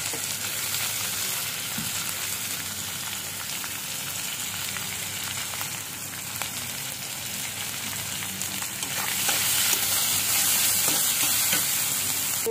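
Prawns, onion, garlic, dried red chilies and green chilies sizzle steadily in hot oil in a pan for taro greens, a continuous close crackling hiss that grows brighter and louder near the end.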